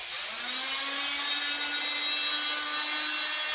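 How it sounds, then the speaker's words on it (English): An oscillating saw cutting through a body cast for armored combat, a close, loud, continuous buzzing rasp that holds steady without pause. "The easier way of doing this, and the way less likely to damage anything, is an oscillating saw."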